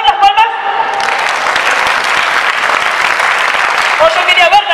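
An audience at a circus show breaks into loud applause for a few seconds as a warm-up exercise, bracketed by a speaking voice at the start and end.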